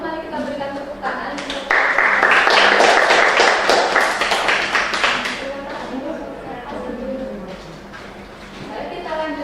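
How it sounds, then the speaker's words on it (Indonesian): Applause from a university microteaching class rises suddenly and fills the room for a few seconds, dense overlapping handclaps that gradually thin out, with voices talking over the start and the end. "kalau sama mari kita berikan tepuk tangan"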